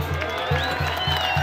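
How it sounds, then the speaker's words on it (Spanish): A crowd claps and cheers loudly for the patron saint San Luis Rey de Francia at a 2013 street festival in Nahuatzen, with steady dense applause over a thumping low band beat. "¡Fuerte que se escuche el aplauso, mi público!"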